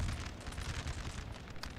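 Round shot cannon fire in Napoleon Total War, heard as a steady rumbling boom with broadband crackle, fairly faint and continuous throughout without clear separate shots.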